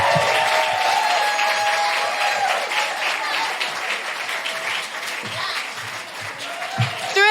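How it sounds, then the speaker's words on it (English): A large comedy club audience claps steadily and loudly throughout, a dense sustained wash of applause with some voices mixed in. "Another round of applause for Njambi McGrath"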